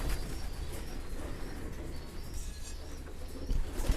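Pigeons softly cooing inside a breeding loft, low murmuring calls with occasional light chirps and a brief flutter of wings, fairly quiet and with no talk.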